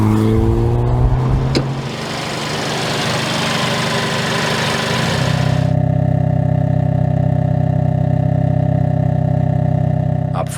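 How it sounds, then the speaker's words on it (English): Hyundai Kona N's 2-liter turbocharged four-cylinder drives with a gritty, loud engine roar that settles into a steady, humming drone, heard up close and alone. "The Kona N's 2-liter Turbo 4 attacks the front tires with 276 horsepower and 289 pounds of torque"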